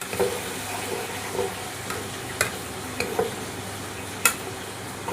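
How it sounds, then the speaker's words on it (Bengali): Khichuri with vegetables being stirred in oil, a steady sizzling fry with a few sharp scrapes of the spoon against the pan, close and continuous, no talking. "তো দেখুন নাড়াচাড়া হচ্ছে এখন। খিচুড়ি সবজি।"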